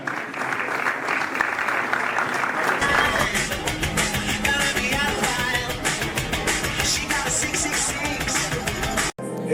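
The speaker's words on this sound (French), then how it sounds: "Je vous demande d'applaudir Nicole Delarue, présidente du comité départemental du cyclisme." Audience applause for Nicole Delarue, president of the departmental cycling committee, fills the room as a dense, steady roar of many clapping hands. It holds strong for about nine seconds with faint background voices and cuts off abruptly at the end.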